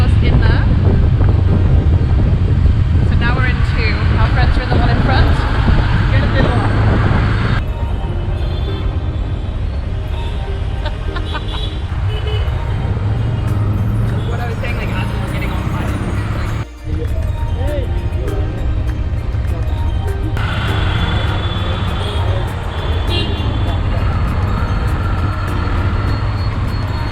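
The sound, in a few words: auto rickshaw ride through busy Bangalore traffic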